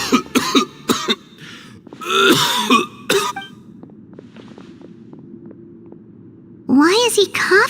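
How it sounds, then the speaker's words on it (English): A character in the video game Genshin Impact coughs in several harsh, hacking bursts: a cluster at the start and a longer fit near the middle. A quieter pause follows before a voice speaks at the end. "Why is he coughing so much?"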